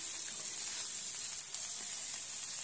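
Pav bread heats on a hot tawa with bhaji, giving off a steady, close, bright sizzle that holds evenly for a few seconds with no voices.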